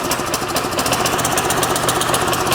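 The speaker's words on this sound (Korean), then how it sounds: "이 상태에서 엔진 연수를 돌리면 올라가고 내립니다." A powered brush cutter's engine runs close and loud, a dense steady mechanical drone with rapid knocking pulses and no talk over it.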